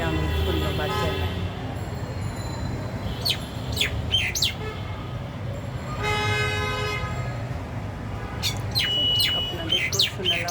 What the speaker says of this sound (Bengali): আপনাদেরকেও শোনালাম পাখির সেই মিষ্টি ডাক, রিয়েল পাখি, রিয়েল মধুর সুরে ডাক।